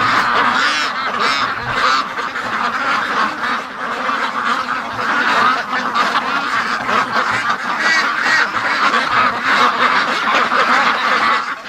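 Night-time clamour of free-range ducks: a sustained, busy mass of quacks and honks from a flock lingering outdoors under a hazy full moon, loud and unbroken throughout.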